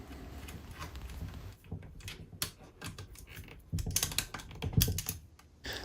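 Cylinder head bolts are tightened on a motorcycle engine during a rebuild, with close, irregular metallic clicks and ratcheting taps separated by brief pauses.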